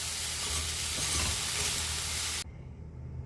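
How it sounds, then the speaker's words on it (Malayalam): Rice being stirred and flipped with vegetable masala in a hot pan for Schezwan fried rice: a loud, steady sizzle and scraping that cuts off abruptly near the end, leaving a quieter low hum. "റൈസ് ഈ വെജിറ്റബിൾസിൻ്റെ മസാലയുടെയും കൂടെ ചേർത്ത് നല്ലതുപോലെ മിക്സ് ചെയ്തെടുക്കാം"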